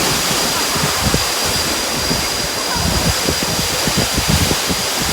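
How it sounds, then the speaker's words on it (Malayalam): Lone Creek waterfall in Sabie, Mpumalanga, roars as a loud, steady wash of falling water heard from close by, with some wind buffeting the microphone. "ലോങ് ക്രീക്ക് വെള്ളച്ചാട്ടം."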